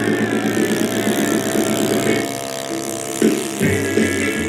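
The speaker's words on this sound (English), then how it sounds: "Much more powerful than gasoline. Single-cylinder, 4-stroke engine." Single-cylinder four-stroke model airplane engine running steadily on an airshow runway, a loud continuous buzzing drone with a brief dip and a sharp blip partway through, with faint crowd background.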